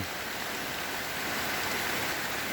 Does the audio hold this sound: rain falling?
yes